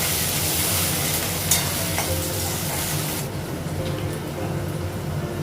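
Garlic and green chilies sizzle in hot oil in a pan, a steady close frying hiss with occasional stirring clinks, the sizzle dropping slightly partway through.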